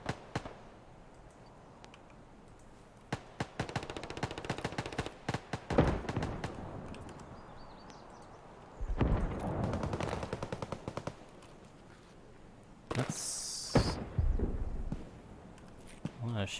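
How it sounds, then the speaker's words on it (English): Bursts of automatic gunfire in Escape From Tarkov, some sharp and near, others more distant, arriving in irregular volleys amid quieter stretches with occasional footsteps and a voice talking. "Shooting over there."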